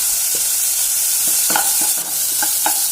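Onion, crushed garlic and ginger, curry leaves and chopped green chilies sizzle in a pan, a steady hiss broken by several short stirring scrapes.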